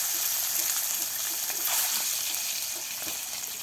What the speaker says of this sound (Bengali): সিদ্ধ করে রাখা ডিমগুলো আগে হলুদ আর নুন দিয়ে ভেজে নিচ্ছে।